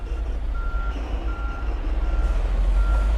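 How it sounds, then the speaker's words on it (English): A truck maneuvering out of a spot sounds its reversing alarm, steady evenly spaced beeps over a deep idling diesel rumble, fairly close and continuous throughout. "We'll wait just a second for this truck to maneuver out of here."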